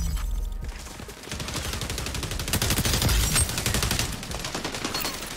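Gunfire in the XDefiant first-person shooter game, dense rapid shots and bursts filling most of the stretch, loudest in the middle, with no talk.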